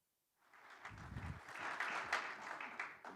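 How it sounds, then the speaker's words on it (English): Sustained audience applause fills an auditorium at a Namibia-EU business forum after a presentation, starting suddenly and holding as a dense, steady wash of many hands clapping. "you had a very healthy round of applause here in the auditorium this afternoon"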